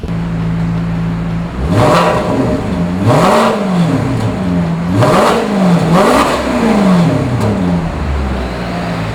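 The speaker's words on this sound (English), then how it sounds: "Let me hit the gas on this car for a little bit because you need to hear it." A 2007 Maserati Quattroporte GT sedan accelerating hard, its engine rising and falling through several loud revving surges with gear changes, close and clear, with no talking.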